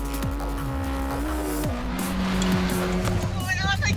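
Kawasaki 1.3-litre four-cylinder motorbike engine in a lightweight Comet mud buggy, revving hard with rising and falling pitch sweeps over a loud, steady drone, alongside other engine noise and a voice speaking over it.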